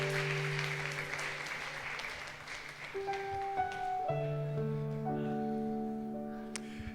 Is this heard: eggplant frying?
no